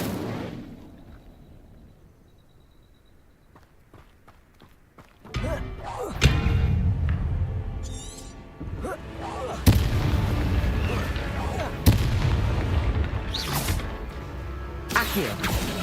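Fire spell cast in the Hogwarts Legacy video game: after a quiet stretch, sudden loud booming blasts and crackling bursts arrive one after another, with a sustained roar of fiery game effects filling the rest.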